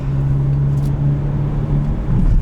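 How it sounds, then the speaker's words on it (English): A steady engine drone with a sustained high supercharger whine riding on top, continuous and fairly loud throughout, close to a 2021 Hyundai Veloster N with manual gearbox. "Supercharger whines all the time."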